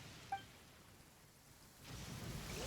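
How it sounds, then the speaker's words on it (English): Rain and a thunderstorm in Genshin Impact, starting with a sharp crackle of lightning, then steady rain noise that swells louder toward the end, with no voices. "Damn lightning hit me!"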